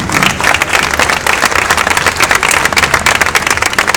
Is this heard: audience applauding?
yes